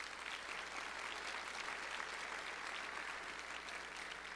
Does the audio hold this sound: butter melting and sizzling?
no